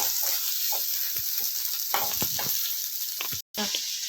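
Coconut-free chutney ingredients sautéing in a pan with salt, with a steady sizzle and a few spoon clinks and scrapes, one brief dropout near the end.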